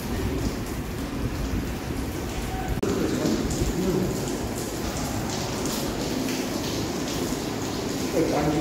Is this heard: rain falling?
yes